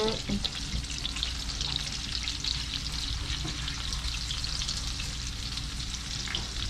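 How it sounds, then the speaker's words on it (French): Fish fries in a pan of butter mixed with olive oil, giving a loud, steady close-up sizzle that runs continuously from start to finish with no pauses. "Je mélange toujours un petit peu d'huile d'olive avec le beurre, comme ça le beurre il brûle pas. Donc on met le poisson."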